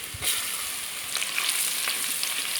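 Ginger and garlic fry in oil with cinnamon and cloves, a dense, close crackling sizzle running steadily with small spatters and stirring clicks, no one speaking.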